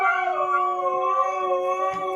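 Dogs howl together in long, sustained, tonal wails that hold steady throughout, close and fairly loud with no talking.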